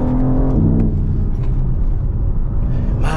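BMW G82 M4 under way, its engine a loud, steady rumble and drone throughout, with a brief sharp change near the end that fits a quick gear shift.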